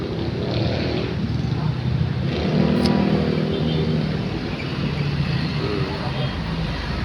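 Heavy street traffic on Quezon Avenue in Quezon City, with a dense steady roar of cars and motorcycles passing close by and occasional revving, while people talk faintly underneath.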